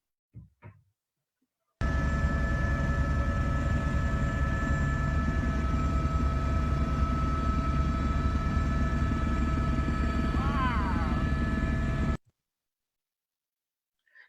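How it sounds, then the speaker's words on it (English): Helicopter flying near buffalo and muskox, a steady loud rotor and engine drone holding for about ten seconds with constant tonal whine, starting and stopping abruptly. "they run away from the noise of the helicopter"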